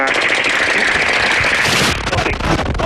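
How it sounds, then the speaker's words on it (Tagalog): Rapid bursts of automatic gunfire crackle continuously and loudly, dense and chaotic, with no pause in the shooting. "Automatic gunfire, Mike. Automatic fire."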